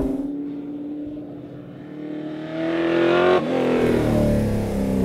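A vintage race car engine drones on track, its pitch climbing steadily as the car accelerates, then dipping briefly at a downshift before rising again, loud and close.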